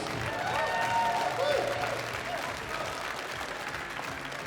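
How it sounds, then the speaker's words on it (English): An audience at a demoscene party hall applauds in a broad, fairly quiet wash of clapping, with a voice talking over it and brief tonal sounds above. "Give them applause."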